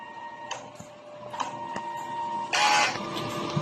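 A DTF printer runs a print head heat clean, giving a steady mechanical hum with a few sharp clicks and ticks, then a brief louder whirring burst near the end.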